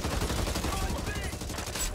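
Gunfire in the zombie shooter Back 4 Blood: a dense, loud, continuous rattle of shots with no break across the whole stretch.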